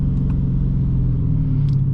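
A Dodge Challenger R/T engine rumbles steadily and deeply at a loud, close level, a continuous low drone with faint brief clicks above it.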